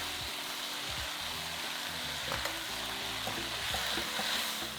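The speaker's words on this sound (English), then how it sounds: "Now we're going to cook that mince for about 5 or 6 minutes, breaking up any large pieces as we go until it's lovely and browned." Minced beef sizzles and fries in a pan, a steady close crackle with occasional scraping stirs, heard alone without talk.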